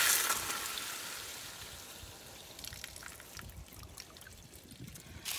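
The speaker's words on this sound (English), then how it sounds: "we're going to drain all the water out of the holding tanks" Water trickles and splashes steadily from a travel trailer's holding tanks as they are drained, a continuous hissing pour that starts loud and settles into a softer dribble.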